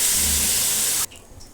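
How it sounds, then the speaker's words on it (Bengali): Water poured into a hot pan of bhetki fish masala sets off a loud, steady sizzling hiss that cuts off abruptly, leaving a faint low simmer close by. "একটু জল দিয়ে দিয়েছি।"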